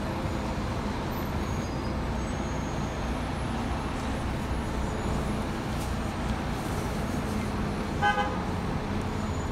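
Vehicle horn beeping from a van in Stratford-upon-Avon street traffic, a quick short burst of tones heard over a steady wash of idling buses and road noise.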